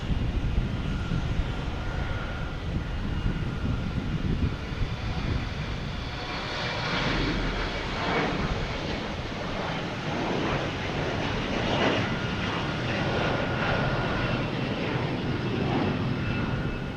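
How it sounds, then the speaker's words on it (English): An American Airlines Embraer E175 takes off from Boston Logan, a sustained broadband jet roar with a rumbling low end and rising engine tones midway, holding steady and fairly near throughout without speech. "We have an American Airlines taking off, heading to LaGuardia in E-175."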